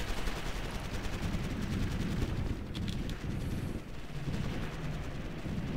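Gunfire at infantry in Ground Control 2, a steady rattle of rapid shots and distant blasts forming a dense, continuous battle din at moderate loudness.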